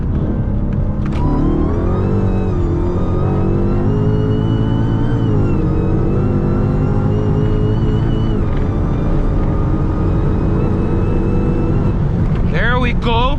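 A BMW M4 and a tuned SRT Hellcat roar loudly at close range during a drag race, the engines droning steadily with shifting pitch, and people talk over the noise.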